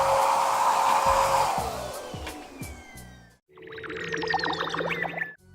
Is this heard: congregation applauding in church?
no